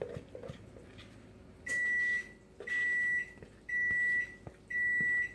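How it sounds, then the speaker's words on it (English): Kitchen oven chiming to signal it has finished preheating, four evenly spaced high-pitched beeps of roughly half a second each, moderately loud over steady room noise with no talk. "Alright, our oven is preheated."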